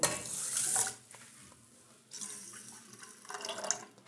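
Water runs from a tap in short bursts, a hissing splash that starts and stops a few times close by, with quiet pauses between.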